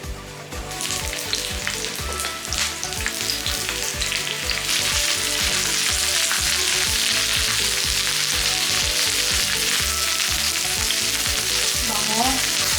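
Onions fry in hot vegetable oil with a loud, continuous sizzle that intensifies partway through, accompanied by clicking and scraping of stirring in the pan.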